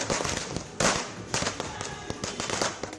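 Firecrackers and sparklers going off at a BJP election victory celebration in Agartala, Tripura, in a dense, continuous barrage of sharp cracks and pops with crackling between bursts, loud and close.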